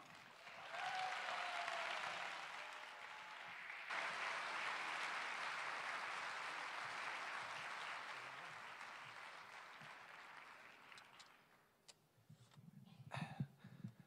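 A live concert audience in Rome gives a musician a long, full round of applause. The dense clapping holds steady, then thins and fades toward the end, where a few louder claps and noises break through.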